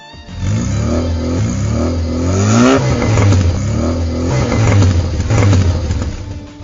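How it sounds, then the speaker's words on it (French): Car engine of the Boletto turning over and catching, then revved three times in quick bursts under the hood, each rise loud and close, with rough idle settling between revs and no voices. "Il tourna la clé de contact et les cylindres de la Boletto se mirent à ronfler sous le capot."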